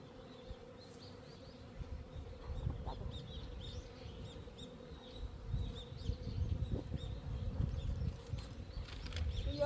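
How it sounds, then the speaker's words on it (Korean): A bee buzzes indoors, a faint, wavering whine that rises and fades as it moves about a quiet room, with no voices. "벌이 들어와가지고 앵앵거리네요."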